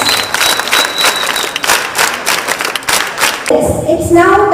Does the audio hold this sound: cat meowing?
no